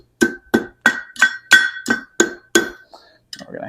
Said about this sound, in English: We're going to hammer it on itself just a bit here.